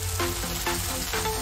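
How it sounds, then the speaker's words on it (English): A 1000-degree heated knife sizzles and hisses as it cuts through a wax-coated Babybel cheese, a continuous frying crackle with rhythmic surges. "The sizzling is magnificent."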